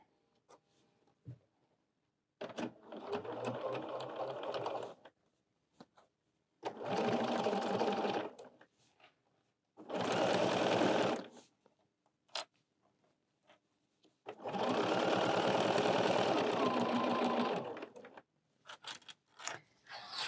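Sewing machine stitching a binding strip on a fabric folding wallet, running in four separate bursts of a few seconds each with quiet pauses and faint handling noises between them.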